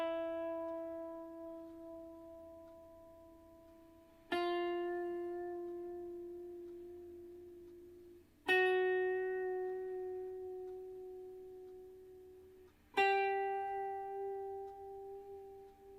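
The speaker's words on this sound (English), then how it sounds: "The first one, blues rock, is these tiny bends. They're little bends that go up and down." Electric lead guitar playing sustained blues rock notes with tiny up-and-down bend vibrato, four plucked notes each ringing out and slowly decaying, clear and alone with no talking.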